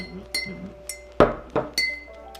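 Chai hot chocolate ingredients are stirred in a glass, a spoon tapping and clinking against the sides in a string of bright, close knocks.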